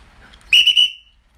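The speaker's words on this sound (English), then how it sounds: "More whistles, please." A short, shrill whistle blast rises sharply and holds for about half a second, loud and close, sounding alone against near silence.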